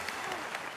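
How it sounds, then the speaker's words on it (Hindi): Brief burst of audience applause for the players on a comedy game show, dense clapping heard for less than a second with a voice mixed in. "इनके लिए तालियां"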